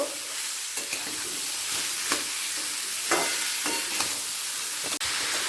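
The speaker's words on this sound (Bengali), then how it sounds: "মূলোটা আলুর সাথে ভালো করে মিশিয়ে নেব" Radish and potatoes stirred together in a frying pan, a steady broadband sizzle with intermittent scraping strokes of a spatula, close and fairly loud, no voices.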